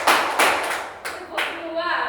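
Children in a classroom clap together in a teacher-led clapping game, sharp broadband bursts of group claps at an uneven rhythm, close and fairly loud, with voices talking and calling out between and over them.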